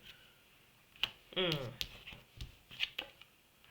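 A deck of tarot-style cards is shuffled by hand in short riffling bursts and clicks, with a person talking softly over the shuffling.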